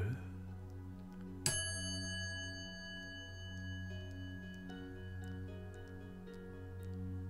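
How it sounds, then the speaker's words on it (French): A meditation bell struck once, a clear ringing tone with a long sustained shimmer fading slowly, heard quietly over a soft background drone. "une fois que j'aurai invité la cloche à sonner"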